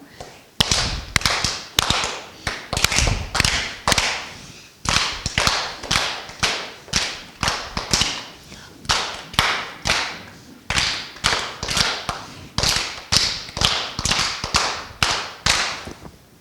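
A first-grade music class of children claps hands in rhythm, sharp thudding claps falling in short bursts of steady beats, pausing briefly between groups, with no voices heard.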